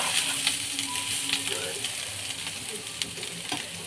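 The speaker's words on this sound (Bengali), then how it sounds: "সাতলানো হয়ে গেছে একটু বেশি হয়ে গেল সাতলানোটা" Food sautés in a pan for a vegetarian meat-style curry, giving a loud, continuous close sizzle with faint stirring scrapes mixed in.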